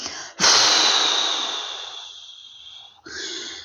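A long, slow breath out during a guided relaxation breathing exercise, starting as a sharp, close, breathy rush and fading gradually over about two and a half seconds before a brief pause and a softer breath.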